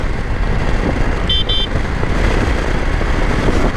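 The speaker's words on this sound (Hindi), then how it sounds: "मुझे इसका हॉर्न बहुत ही घटिया लगता है गाइस।" A pair of quick, high-pitched horn beeps cuts through loud, steady engine and road noise.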